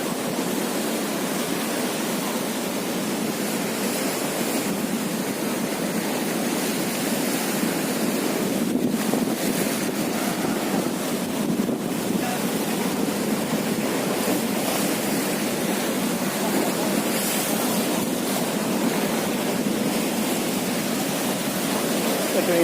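Strong surf pounds continuously during Typhoon Quinta in Bicol, a loud roaring wash of waves mixed with wind buffeting the microphone, unbroken for the whole stretch.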